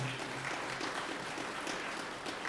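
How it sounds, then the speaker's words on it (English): Sustained audience applause fills a town hall meeting at an economic opportunity center, a dense, steady roar of many hands clapping throughout with no pauses. "Let's give them a round of applause, please."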